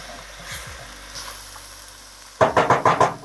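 Yakisoba seasoning and vegetables cooking in a pan: a faint, soft sizzle at first, then a burst of louder rhythmic scraping and stirring strokes near the end.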